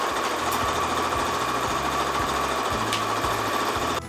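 Sewing machine stitching steadily across the bottom of a quilted patchwork bag, a continuous close mechanical whir with a rapid needle rhythm that runs without pause before stopping abruptly.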